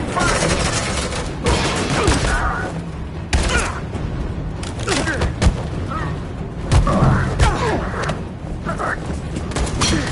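Suppressing gunfire in a PS4 video game, repeated loud bursts and booming shots scattered across the clip, mixed with shouted voices.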